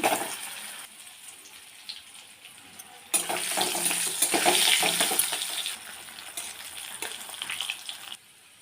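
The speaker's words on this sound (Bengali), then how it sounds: "আলুটা ভেজে নেব" Potatoes frying in a pan of oil for a fish-curry meal, a close sizzling hiss that swells louder midway, mixed with watery splashy texture and faint kitchen clatter, no talk.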